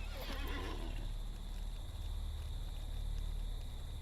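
A war steed in the online game LOTRO (Lord of the Rings Online) gives a loud, close neigh that trails off, with a low steady hum of game ambience underneath.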